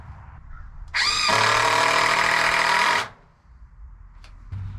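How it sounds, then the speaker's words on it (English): A power drill drives screws into boards while building a shelter for feeder pigs, its loud whining motor running steadily for about two seconds and then stopping, with quiet background noise around it. "Put some screws in here."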